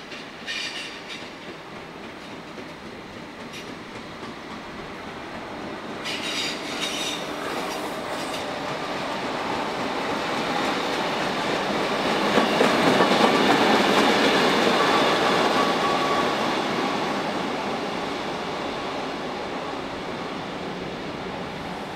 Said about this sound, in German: Diese Lok habe ich beim Filmen gar nicht bemerkt